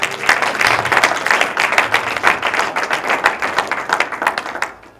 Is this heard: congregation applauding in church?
yes